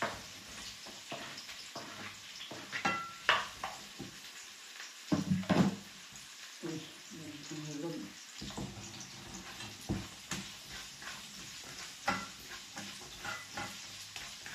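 Ginger and onions fry in a pan for kilawin, giving a quiet, steady sizzle broken by intermittent stirring clatter and a few louder scrapes.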